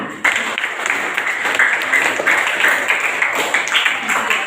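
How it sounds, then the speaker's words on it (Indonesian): A classroom full of people claps steadily for several seconds, a dense, even patter of applause with no pauses. "tepuk tangan untuk kelompok 4"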